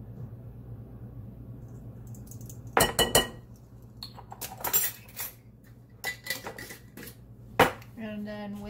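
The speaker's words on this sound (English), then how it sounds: "And then whisk it all together for about a minute until it smooths out." A whisk works through brownie batter made with cocoa and vanilla, giving irregular metallic clinks and taps against the bowl, some loud and close, over a low steady hum.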